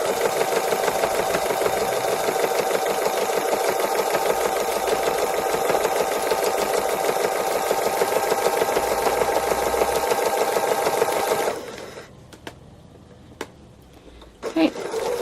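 A domestic sewing machine runs fast and steady during free motion embroidery of a cow design, a close, buzzing needle whir that stops abruptly near the end, followed by quiet clicks and soft handling sounds.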